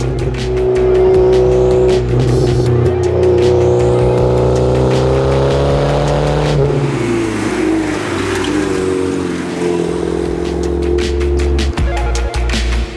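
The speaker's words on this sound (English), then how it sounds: "the amazing sound of this turbo spooling up. Just listen to this thing." A Porsche 944 Turbo (951) engine with about 400,000 miles revs hard and loud, its turbo whistling as it spools up, then drops and climbs again with rising pitch.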